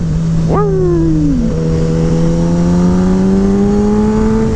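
A Ninja ZX10-R sport motorcycle engine drops pitch sharply in quick-shifted downshifts, then holds a steady loud tone and slowly climbs again, close and continuous with constant wind roar.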